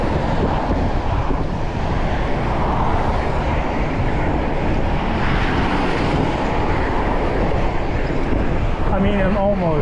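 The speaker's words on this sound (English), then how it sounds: "It's a bridge, so, and it's really, there's pretty strong headwind now" Strong headwind buffets a microphone while cycling across a bridge in Taiwan, a constant loud roaring rumble filling the whole clip, with faint whistling tones near the end.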